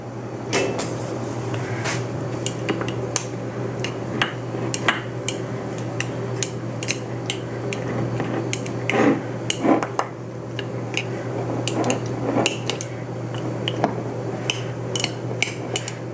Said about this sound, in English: Now we should debubble. And for that I just use a chopstick.